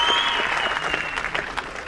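A crowd at the Ezhumin film audio launch event claps loudly in a brief, dense burst of applause.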